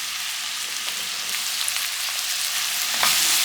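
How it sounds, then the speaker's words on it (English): Leek, kohlrabi and sweet potato sauteing in olive oil give a steady, close hiss of frying with light crackle throughout and a brief stir near the end, with no voices. "So we will saute our leek, the kohlrabi, plus the sweet potato."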